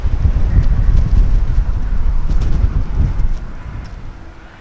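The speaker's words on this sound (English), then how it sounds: "My apologies for all this wind." Strong outdoor wind buffets the microphone in continuous low rumbling gusts beside a 2019 Honda Civic hatchback, easing off slightly toward the end.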